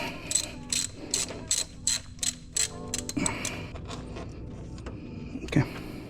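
A ratchet wrench backs out a bolt during serpentine belt tensioner removal on a Lexus 4.7L V8, making quick bursts of close, sharp clicking in an even rhythm, then quieter handling noises.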